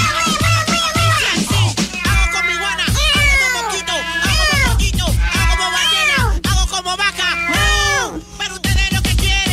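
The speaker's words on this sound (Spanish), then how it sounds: "¡Es el gato volador!" Cartoon flying cat meowing loudly and insistently, a rapid run of drawn-out, wavering yowls that rise and fall one after another over about ten seconds, close and dominant.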